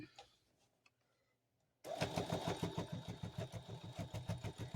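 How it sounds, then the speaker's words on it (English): A sewing machine stitching a quilted table runner starts after a near-silent pause and runs steadily, its rapid rhythmic needle chatter close and loud through the rest of the moment. "And then go ahead and sew that."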